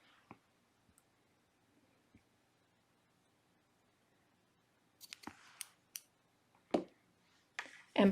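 Scissors snip a crochet yarn tail after near silence, a few faint clicks early, then a cluster of sharp close snips and clicks in the last three seconds.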